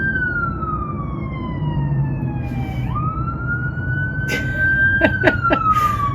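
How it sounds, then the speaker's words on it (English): An ambulance siren passes, wailing with slow falling and rising tones over low traffic rumble, joined near the end by a few sharp clicks. "there is an ambulance going through here"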